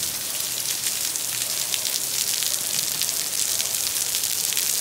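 Heavy rain pouring outdoors by the Banabuiú reservoir, a dense, constant hiss of drops hitting surfaces, steady and fairly loud throughout with no voices.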